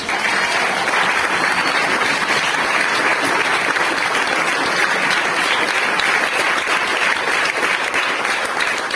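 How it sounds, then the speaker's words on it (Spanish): A church congregation claps steadily and loudly for the whole stretch, a dense, even roar of many hands with no voices standing out. "Este aplauso a mi Jesús."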